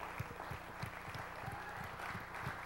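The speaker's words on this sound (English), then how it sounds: "Keep on clapping to the Lord." Church congregation claps in steady, even rhythm, roughly three claps per second, moderately faint under a roomy hum of the worship hall.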